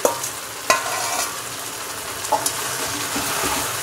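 Stirring and frying in a pan over low-to-medium gas while cooking paneer bhapa with ash gourd shoots: a steady close sizzle runs throughout, broken by a few sharp scraping knocks of the spoon against the pan.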